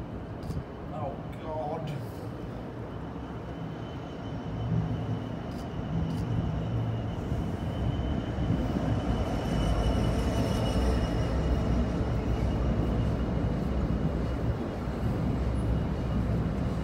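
A train passes Brayford level crossing in Lincoln, its rumble and wheel noise building and holding steady, with faint crossing tones early on and voices talking quietly nearby.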